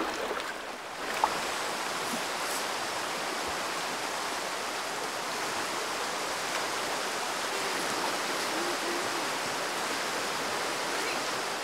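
A jungle river flows with a steady, broad rushing of water, continuous and fairly close, with no talk over it.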